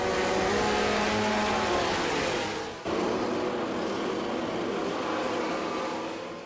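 A MotoGP motorcycle engine holds loud, steady revs at about midway on the grid before the start, a dense sustained roar with a brief dip partway through.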